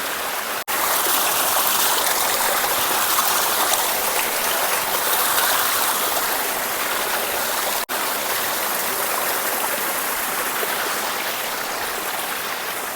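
Cold water rushes steadily down a hillside stream at Vibhuti Falls, a loud, continuous broadband roar heard up close for the whole stretch, broken only by two brief dropouts.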